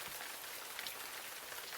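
Cold rain falls in a steady, even hiss that fills the whole stretch on its own, with no voices or other sounds over it.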